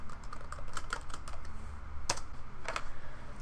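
Fingers typing a search term on a computer keyboard, a close run of quick, irregular key clicks with short pauses and no talk.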